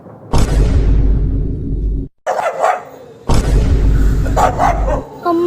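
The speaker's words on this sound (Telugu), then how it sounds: "అమ్మ ఇక్కడ చాలా కుక్కలు ఉన్నాయి, నాకు భయం అవుతుంది." Dogs bark loudly and close by in a dramatic film scene, two long harsh bursts of barking separated by a brief silence, with no one talking over them.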